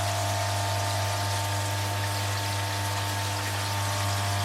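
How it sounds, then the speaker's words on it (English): A filtration system is bled of air and water through a newly fitted valve, a steady loud hiss and rushing flow over a constant low pump hum, unbroken for the whole stretch with no talking. "Letting all air out of the system."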